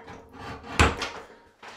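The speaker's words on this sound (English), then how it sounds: "you pull it again, and then you can open the door" Bathroom door with a twist lock, pulled and then opened, giving a sharp clunk of the latch followed by a softer rattle of the door moving, close by and quiet.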